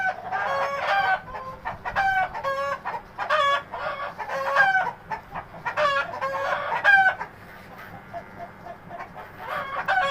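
Chickens cluck and a rooster crows repeatedly, with several loud, close calls in bursts over a low background hum.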